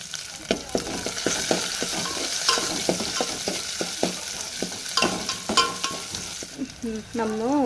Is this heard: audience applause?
no